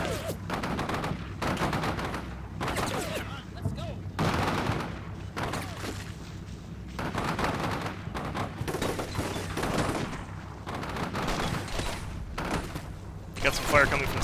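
Machine gun and rifle fire in a video game mission: repeated bursts of gunfire and fusillades with booms across the whole stretch, someone talking over much of it.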